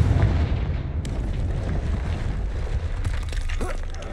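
A Confringo fire spell explosion in Hogwarts Legacy, a deep, heavy roar that booms at the start and keeps rumbling loudly for several seconds, with crackling bursts layered over the low sustained blast.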